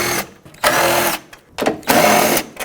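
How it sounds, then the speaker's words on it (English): A power tool runs in two short, loud bursts as it removes 10mm bolts under the hood of a 2008-2017 Buick Enclave. A fainter buzz sits between the bursts, and no one speaks. "we have to remove 3 10mm bolts at the front here"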